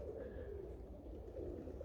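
Budapest pigeons at a Polish loft coo in soft, low, rolling murmurs, heard close and continuous with a faint higher note early on.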